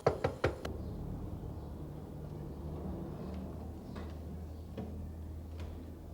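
Three quick knocks on a door at the start, fairly close and sharp, then a quiet room tone with a low hum and a few faint distant taps, no speech.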